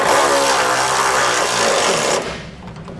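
Rapid ratcheting of a socket wrench tightening a nut and bolt on a Curt base plate kit on a 2016 Chevrolet Equinox, a loud continuous buzzing run that cuts off near the end.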